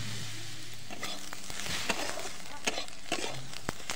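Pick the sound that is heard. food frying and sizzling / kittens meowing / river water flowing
food frying and sizzling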